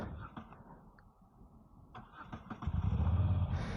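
A Moto Guzzi V7 motorcycle engine cranks with a few soft sputters, then catches and settles into a loud, low rumbling idle close by.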